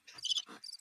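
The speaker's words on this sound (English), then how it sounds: "Crickets, even better." A brief cricket-chirping sound effect of a few quick, high trilling pulses in under a second, heard alone with no talking.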